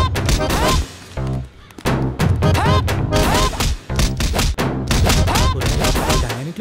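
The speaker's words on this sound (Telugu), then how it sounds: "దెబ్బల సౌండ్లు అనిపిస్తుంది." Heavy thuds and smacks of blows land in a rapid, irregular series as someone is beaten in a Telugu film fight scene, loud and close, with shouting voices over the impacts.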